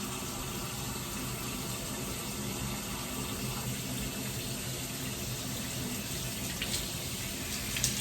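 Steady running water from a Cocojor Minicle micro bubble pet shower, a continuous hiss of spray and flow held at an even level throughout with no talking.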